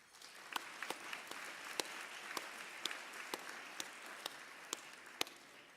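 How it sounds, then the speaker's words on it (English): Steady audience applause greets award honorees at a 2017 INFORMS awards ceremony, a continuous soft wash of many hands with sharper nearby claps standing out, moderately distant throughout. "please join me in a round of applause for everyone that's being honored tonight"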